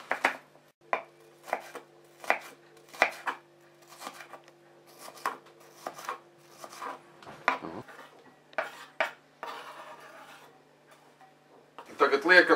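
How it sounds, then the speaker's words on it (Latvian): A knife finely dicing an onion on a cutting board, with steady, evenly spaced chops close by and a brief scrape and clatter near the end; a voice speaks over part of it. "Sākam ar to, ka smalki sagriežam sīpoliņu,"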